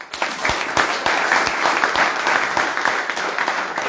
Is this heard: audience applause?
yes